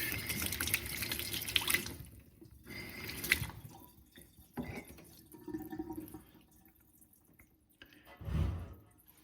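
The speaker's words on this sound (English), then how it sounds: "This button here will have water coming out of this place." Intermittent bursts from a glass rinser spraying water into a metal kitchen sink, several short sprays separated by pauses and drips.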